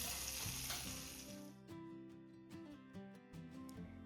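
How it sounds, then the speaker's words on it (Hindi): Hot oil sizzles loudly as a second tempering hits dhaba-style dal tadka. The hiss fades after a moment into a softer crackle with light clinks of stirring. "तो ये देखिए अब हम दाल में ये दूसरा तड़का भी डाल देंगे।"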